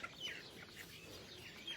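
A young chick gives faint, thin peeps near a group of ducks, a few soft high calls over quiet outdoor background.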